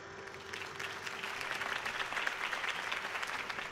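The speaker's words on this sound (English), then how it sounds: "If only Mr. Wayne, my campaign's largest backer, could have heard that applause" Crowd applause at a Harvey Dent campaign rally in Batman: The Telltale Series swells into a dense, steady roar of clapping that grows slightly louder over nearly four seconds, with no voices above it.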